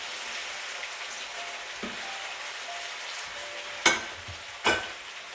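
Stew simmering in a covered pot on low heat gives a steady soft sizzle and bubbling, with two sharper clinks or pops near the end.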